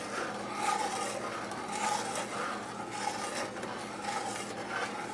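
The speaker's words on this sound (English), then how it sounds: "It's important to keep stirring because if you don't, sometimes your eggs get kind of lumpy" A spatula scrapes and stirs eggs and milk in a hot pan, producing continuous close rubbing and scraping strokes in a steady back-and-forth rhythm with no talk.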